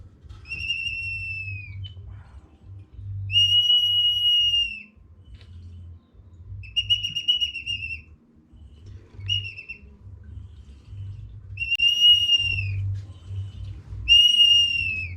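Small traditional clay whistle from a pottery workshop in Amozoc, Puebla, blown in about seven short clear tonal blasts with gaps between them, alone over a low background rumble.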